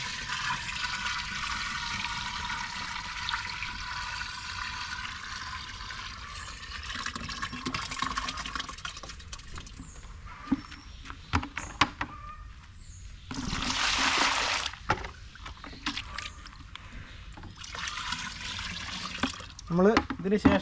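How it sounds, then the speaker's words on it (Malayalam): Liquid from peanut oil cake soaked in water is poured into water mixed with fresh cow dung, making a long gushing, splashing pour with a louder surge of liquid partway through. "ആ പച്ചച്ചാണകം കലക്കിയ വെള്ളത്തിലേക്ക് ഒഴിക്കുക"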